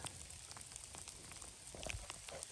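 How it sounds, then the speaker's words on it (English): Small hail and sleet pattering on a mountain backpacking trail in the Great Smoky Mountains, a dense, steady crackle of tiny impacts throughout with no talking. "Little hail, sleet."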